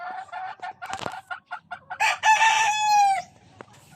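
A golden boy gamecock crows loudly and close by, a drawn-out call that rises and trails off, preceded by short clucks.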